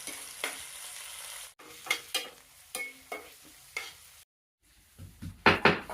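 Onions and curry leaves frying in hot oil in a pan, with repeated stirring scrapes and bursts of sizzling, a short pause near the end followed by louder, busier stirring, no talk.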